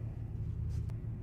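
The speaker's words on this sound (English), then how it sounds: "I'm in a semi-truck. There are trucks next to me idling." Deep, steady diesel rumble of semi-trucks idling close by, a low continuous throb heard from inside a truck cab, with no talking.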